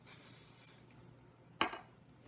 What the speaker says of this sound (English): now I'm going to spray my quick tease again